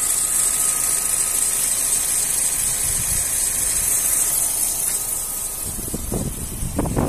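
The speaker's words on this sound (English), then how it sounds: "nice and clean engine bay. It sounds very nice and smooth." A 1.6 petrol Vauxhall Zafira seven-seater idles steadily with a smooth, even hum and hiss heard up close, and a few low thumps toward the end.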